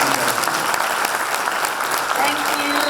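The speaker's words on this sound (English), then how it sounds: "shall we just give Fei Fei a big round of applause?" An online machine learning community audience gives Stanford professor Fei-Fei Li a round of applause, steady dense clapping from many hands throughout, with voices mixed in.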